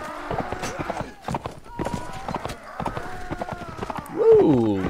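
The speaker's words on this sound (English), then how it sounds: "Right, cavalry charge." Horses gallop in a cavalry charge in Mount & Blade: Warband, with dense, rapid hoof thuds under someone talking and a horse whinny rising near the end.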